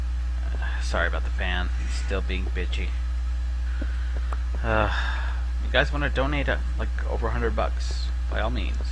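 A fan hums steadily and low throughout, with a constant mains-like drone underneath someone talking close to the microphone.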